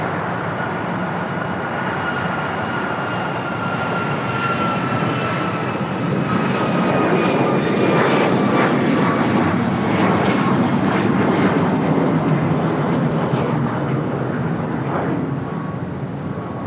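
A jet airliner departing LAX roars loud and steady throughout, a broad continuous engine rumble with a faint whining tone gliding through it, no voices over it.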